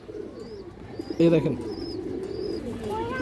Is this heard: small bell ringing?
no